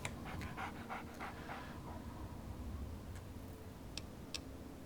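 Dogmeat, the dog in the Fallout 3 video game, pants rapidly in a quick rhythmic series up close, then quiets, with soft ticking clicks and a low background hum.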